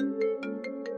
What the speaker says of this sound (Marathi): फोन वाजता तुझो